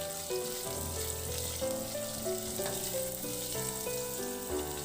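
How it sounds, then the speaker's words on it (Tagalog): Ginger sautés in oil in a kawali, a continuous close sizzle holding steady the whole time under quiet background music. "Sa kawali maglagay ng mantika at igisa ko na rin yung luya."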